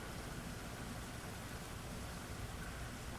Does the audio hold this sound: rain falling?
yes